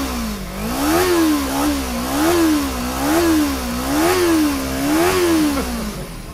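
A motorcycle with its stock exhaust revs repeatedly, the engine note rising and falling in about five smooth, even pulses, close and fairly mellow, with no talk.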